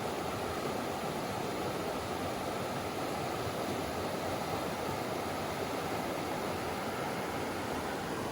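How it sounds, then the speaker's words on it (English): Steady broadband rush of a river flowing beside a forest trail near an old mine on a sunny day, continuous and even throughout with no breaks or voices. "if you can hear it in the background, a beautiful river"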